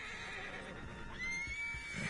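A horse in Red Dead Redemption 2 gives a high whinny near the end, rising over steady in-game ambience and low rumbling with no talk.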